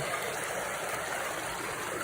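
A small stream on the Foothills Trail in South Carolina flows in a steady, close wash of water with no breaks and no voices.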